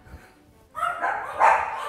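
Dogs barking indoors during a playful household squabble, a quiet lead-in giving way to a burst of sharp, close barks and yips that keep going to the end.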